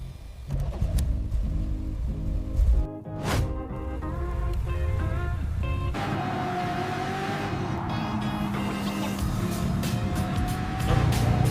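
A car drives down the hill at Watson's Bay, its steady road and engine rumble heard from inside the cabin as a continuous, even drone with no one talking.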